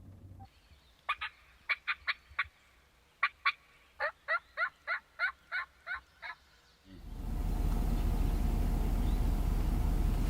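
A wild turkey gobbles about a dozen times in quick rhythmic bursts, clear against a quiet background, before a steady rushing noise, likely wind or rain, takes over.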